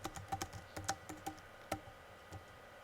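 Fingers type on a computer keyboard at close range, with a quick run of uneven key clicks that slows to a few scattered taps and then briefly stops.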